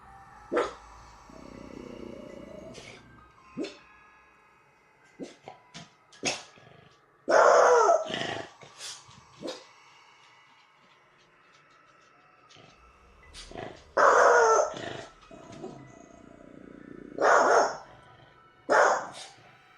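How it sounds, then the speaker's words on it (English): A dog barks anxiously indoors, several loud separate bursts spread across the stretch with quiet gaps, some sharp single yips and a few longer clustered barks, with faint background noise between them. "the dog she was babysitting began to bark anxiously, staring down the hallway"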